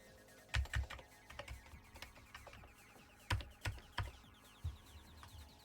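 Keys clatter on an Amiga computer keyboard in short irregular bursts of clicks, some sharp and louder, others light taps, close and fairly quiet with no talking.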